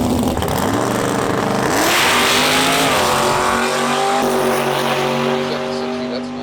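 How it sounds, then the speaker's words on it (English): Chevrolet big-block 454 Monte Carlo SS drag car launching down the strip, a loud, sustained engine roar with rising revs and gear changes, heard under an announcer's commentary. "454, and that bad boy, the big Chevy Big Block with the Monte Carlo SS."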